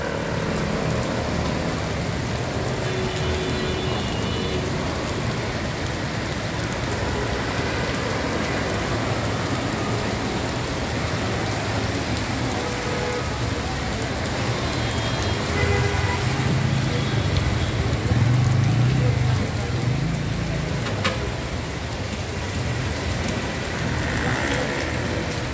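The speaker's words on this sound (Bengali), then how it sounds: "আজকে দুপুরের পর বৃষ্টির গতিটা বেড়েছে।" Heavy rain pours steadily across a flooded Dhaka street in Paltan, a dense continuous hiss and patter, with faint traffic sounds underneath.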